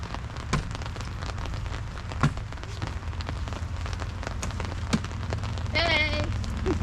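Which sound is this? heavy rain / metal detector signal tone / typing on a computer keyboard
heavy rain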